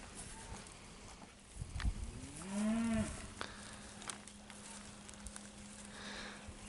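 A single cow lets out a low, drawn-out moo from nearby, rising and falling over about a second amid quiet outdoor farm ambience with faint scuffs and a steady background hum.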